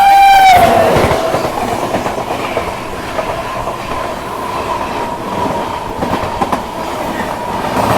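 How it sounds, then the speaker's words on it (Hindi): The Purushottam Express rumbles past while crossing another train, a loud, continuous clatter of wheels on rails with a brief horn-like tone at the start and steady clickety-clack throughout. "चलिए देखते हैं कौन सी ट्रेन आ रही है।"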